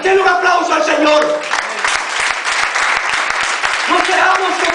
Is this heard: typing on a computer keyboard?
no